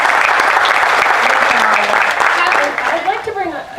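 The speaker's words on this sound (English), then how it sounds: "So can everyone give Celia a hand of applause?" A crowd claps and cheers at the Maine Lobster Festival seafood cooking contest, a dense, loud burst of applause that tapers off near the end as voices rise beneath it.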